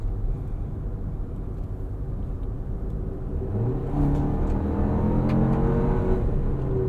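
A 2024 Toyota Grand Highlander Platinum AWD with a 2.4 L turbo engine accelerates, a steady engine drone inside the cabin that swells and rises in pitch as it gathers speed, with no talk.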